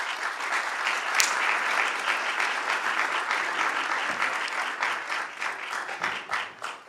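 A crowd applauds at a press event, a full round of clapping that starts strong and thins out unevenly toward the end.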